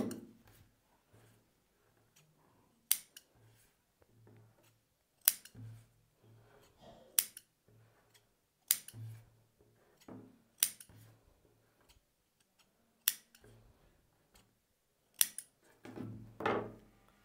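Scissors snipping through blouse fabric along a marked front panel, a string of sharp, close, well-spaced cuts at a slow irregular pace, with soft rustling of cloth between them in a quiet room.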